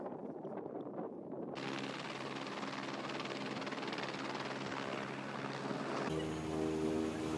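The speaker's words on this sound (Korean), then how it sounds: "사람들이 탑승하자 비행기가 날아오른다." Small nine-seat ski-equipped airplane taking off from a high-altitude glacier area in Oceania, a loud steady propeller and engine roar that swells suddenly and holds, briefly shifting in tone near the end, with no talking.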